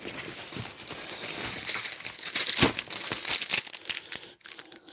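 Crinkly plastic packaging from a 15-year-old sealed bug-out bag is handled and rustled close up, with crisp irregular crackles that swell and fade over several seconds.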